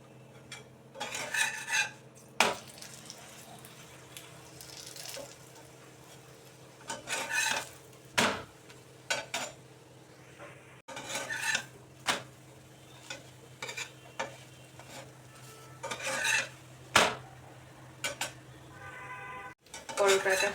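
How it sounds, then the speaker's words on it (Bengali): Paratha frying in a pan with a little oil, heard as recurring scraping and clattering of a utensil against the pan in uneven bursts, over a steady low background hum, close and fairly loud. "অল্প তেল দেব, দিয়ে ভেজে নেব।"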